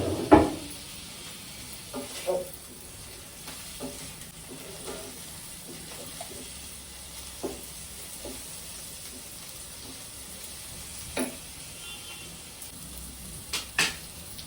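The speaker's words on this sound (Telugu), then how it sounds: "అల్లం వెల్లుల్లి వేగిన మంచి వాసన వచ్చే వరకు వేయించాలండి" A spoonful of ginger garlic paste with a pinch of turmeric frying in a pan for crab curry gives a soft, steady sizzle, broken by a few sharp clinks of a utensil against the pan.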